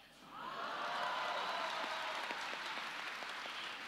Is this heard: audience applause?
yes